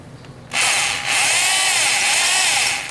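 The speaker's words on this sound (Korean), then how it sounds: "좀 뚫어 볼게요" A power drill boring a hole for a helicoil thread repair, bursting in after a brief quiet start and then whining steadily and loudly at high speed for a couple of seconds, close up, with no voices.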